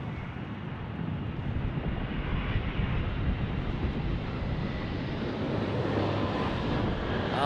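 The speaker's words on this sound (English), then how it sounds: "It's a Delta Airlines A350." A Delta Airlines Airbus A350 jet makes a continuous broadband engine rumble with some wind buffeting, holding an even level throughout and heard alone without talk.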